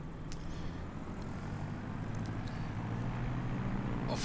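A Diamond DA62 airplane taxis with flaps up in a crosswind, its engines a steady low drone with faint whines and brief clicks over a continuous hum, fairly quiet and with no talk.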